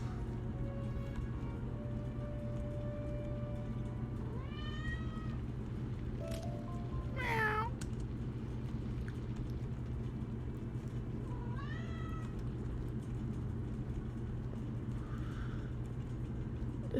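Fire kittens meow a few times in the Wizard101 video game, separate drawn-out cries spaced over a steady low hum, fairly faint and with no talking.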